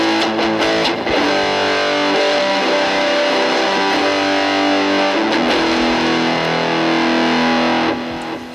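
Electric guitar played through a cheap $30 Temu distortion pedal on its high-gain channel A, giving a thick, saturated, sustained tone that rings loud and continuous for most of the passage before tailing off at the end.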